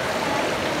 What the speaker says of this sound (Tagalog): Medyo malakas ang tubig